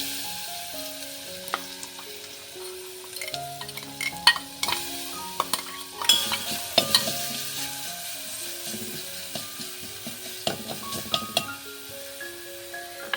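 A homemade spice mix lands in hot oil in a pan and sizzles steadily while a utensil stirs and clinks against the metal, close by, over faint tonal background music.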